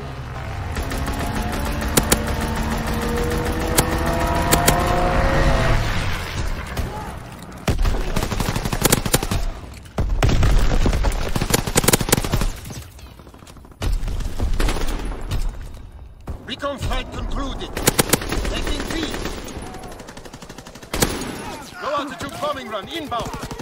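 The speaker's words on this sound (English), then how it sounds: "Strafing run inbound." Rapid bursts of aircraft strafing-run gunfire from a Call of Duty match, loud and repeated with pauses, mixed with engine noise and game voice callouts.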